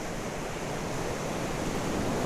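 Ocean waves breaking on a shore, a steady loud wash of surf with broadband hiss and rumble filling the whole stretch, no voices.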